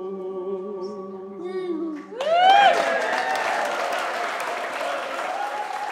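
An audience breaks into applause after a couple of seconds of sustained tonal singing or music, the clapping swelling quickly and then holding as a dense, steady round to the end.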